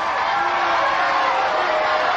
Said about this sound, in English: the crowd going wild here